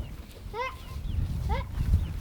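Two goat bleats ring out, wavering and nasal, one after another over a low rumble of background noise on a homestead.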